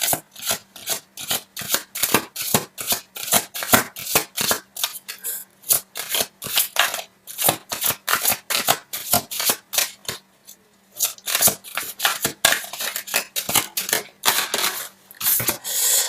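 Tarot cards are shuffled steadily at close range, a rapid series of crisp riffling, flapping strokes in an even rhythm with brief pauses between bursts and no voices.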